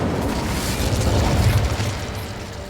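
A fiery Incendio spell cast in the video game Hogwarts Legacy erupts as a loud, sustained rumbling whoosh, swelling and then easing slightly, with no voices over it.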